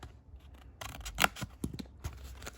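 Scissors snip into a cardboard craft box lid with several quick, close, quiet cuts in an uneven rhythm.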